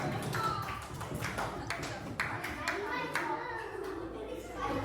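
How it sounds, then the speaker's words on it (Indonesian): An audience of young people at a school outreach talk on early marriage and puberty claps in scattered, lively bursts while children chatter and someone speaks over the applause. "tepuk tangan"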